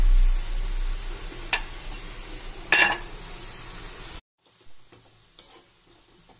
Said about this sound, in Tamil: இப்ப திருப்பி நல்லா உப்பு போட்டதுக்கு அப்புறம் நல்லா கிளறி விடுங்க